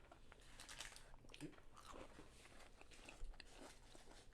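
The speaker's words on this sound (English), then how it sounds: "I don't know if you can hear. That's really crunchy and delicious." Quiet crunchy bites and chewing of plant-based vegan soul food up close, a few crisp crunches over a faint background.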